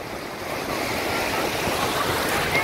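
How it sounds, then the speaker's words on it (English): Sea waves break and wash onto a sandy beach at Barricane Beach, Woolacombe, a steady roaring surf that swells louder partway through, with some wind noise and no talk. "Benji, look at the waves coming."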